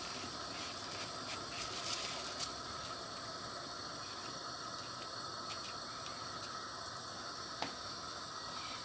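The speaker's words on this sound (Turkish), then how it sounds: "Suyumuz kaynadı." Water comes to a rolling boil in a cooking pot for Turkish ezogelin lentil soup, a continuous bubbling hiss with faint clicking and rattling, heard alone without talk.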